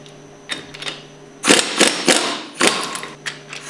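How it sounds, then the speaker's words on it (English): A 1-inch socket loosens the valve caps on a Hypro Powerline plunger pump, giving a close run of sharp metallic clicks and clanks in uneven bursts. "Use your 1-inch socket to remove the valve caps."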